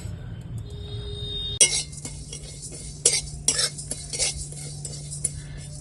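Cumin and five-spice (panch phoron) dry-roasted in a dry pan, a sudden clatter as the seeds go in, then scattered metallic scrapes and clinks of stirring over a soft steady hum.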